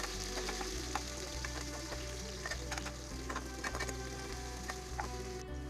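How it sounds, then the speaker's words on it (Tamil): Onions and curry leaves fry in a pan for a traditional South Indian sambar, a soft continuous sizzle with faint crackles and light ticking from stirring, fairly quiet and without speech. "இப்போது கட் பண்ணி வச்சிருக்கிற ஆனியன் போட்டுக்கலாம்"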